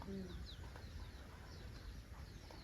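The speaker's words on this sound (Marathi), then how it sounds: "ह्या कोंबड्या कुणाच्या" Faint clucking and soft coos from chickens nearby, mixed with light chirps in a quiet outdoor setting.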